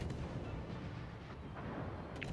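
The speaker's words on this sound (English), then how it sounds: "I see the Yu Yang starting to shoot at me" Naval gunfire from warships in a World of Warships-style battle involving a Gearing destroyer, heavy distant rumbling booms blending into a dense, low continuous roar.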